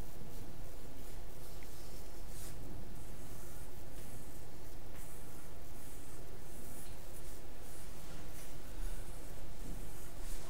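A brown pencil scratches across paper while colouring in the wood grain on a sketched dowelled butt joint, a steady close rubbing stroke that continues throughout.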